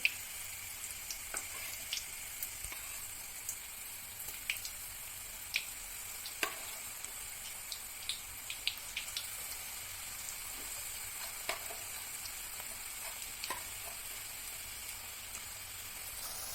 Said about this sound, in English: So now I'm taking it out of the oil and I'm going to fry the same way the second batch